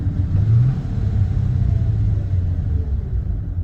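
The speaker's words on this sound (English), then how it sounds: "it kind of does a throttle tip in for downshift too, so it's kind of like a rev matching downshift it does" Steady low engine rumble from a car with an automatic transmission that blips the throttle to rev-match as it downshifts from 2nd toward 1st, with a short rise in engine pitch early on, then an even drone.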